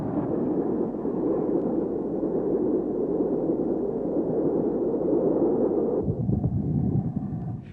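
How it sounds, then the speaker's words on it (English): An A1 steam locomotive rushes past hauling a down express, a loud, dense, continuous roar of engine and carriages that holds steady before shifting abruptly near the end as the train passes. "An A1 hurries by on another down express."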